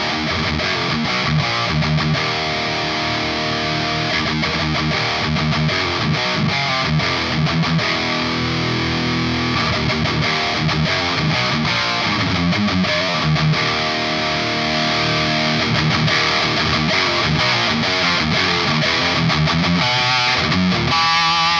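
Electric guitar played through a Yamaha T100 amp pushed into master power amp distortion, a loud, thick, sustained overdriven tone with continuous chords and riffs throughout.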